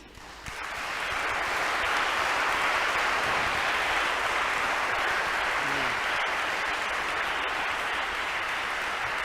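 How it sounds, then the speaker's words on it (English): An audience in a cathedral basilica applauds students after a brass chamber music showcase. The clapping rises quickly and holds as a dense, even ovation for several seconds. "Let's give a round of applause for our amazing students"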